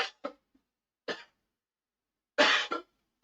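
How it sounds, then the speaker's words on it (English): A person coughs gingerly at a tabletop game session, as if it hurts: a few short, separate, close coughs and throat-clearing bursts with silence between them. "I'm trying to work out how to cough without it hurting"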